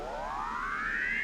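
A heavily detuned synth in Ableton Live gives a thick, warbling tone that sweeps steadily upward in pitch over about a second, alone and fairly quiet.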